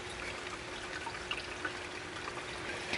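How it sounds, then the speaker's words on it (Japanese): Water runs and trickles steadily as mud is washed off wasabi plants outdoors on a rainy day, a soft continuous splashing with faint scattered drips and no voices. "もう泥をこうやって洗ってるんですよ"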